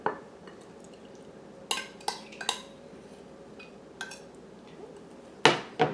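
Milk and melted butter stirred together in a bowl for a homemade blackberry cobbler, a few scattered clinks and scrapes of the utensil against the dish over a quiet room, with one louder knock near the end.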